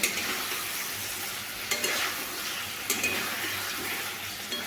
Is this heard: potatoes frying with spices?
yes